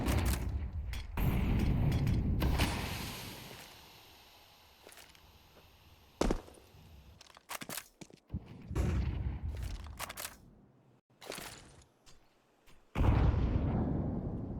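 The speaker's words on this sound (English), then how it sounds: "Oh, big nade." Grenade blasts from a competitive tactical shooter match: sharp booming bursts with rumbling decay, separated by scattered shots and clicks, with one loud explosion near the end.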